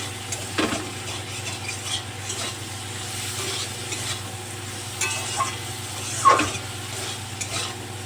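Okra and potato sautéing in a pan, a soft steady sizzle with occasional scraping stirs and a sharper clink of the spoon near the end, no voices.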